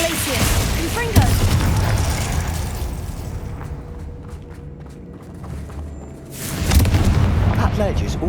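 Bombarda and Confringo explosion spells in the Hogwarts Legacy video game go off in heavy, loud booms with rumbling bursts, while a voice calls out spell names over the blasts.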